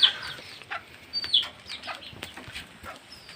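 Chickens cluck in short, scattered bursts, with brief rustling and flapping, fairly near in an outdoor setting.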